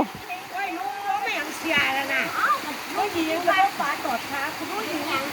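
Water rushing steadily at Sarika waterfall, a broad continuous roar with splashing, heard close while people talk and shout over it throughout.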